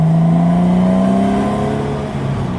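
A Porsche Boxster 986 engine revs loudly and close up, its aftermarket-sounding exhaust giving a steady droning tone that rises and then eases off, with no talking over it.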